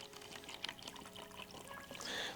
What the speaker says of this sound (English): So this is the Fiji water. We're gonna pour some of this in here.